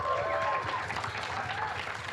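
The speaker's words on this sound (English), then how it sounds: "Everyone give a round of applause to Dusty." An audience at a live creator awards event gives a round of applause, a continuous wash of clapping and crowd noise with a voice faintly present underneath.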